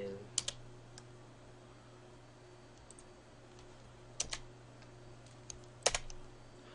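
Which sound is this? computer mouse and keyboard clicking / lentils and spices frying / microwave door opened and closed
computer mouse and keyboard clicking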